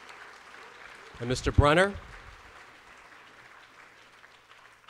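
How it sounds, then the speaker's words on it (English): Soft applause for inductees at a school's distinguished graduate ceremony. A steady, distant patter runs underneath while someone briefly speaks a name over it. "One big round of applause once again for our inductees"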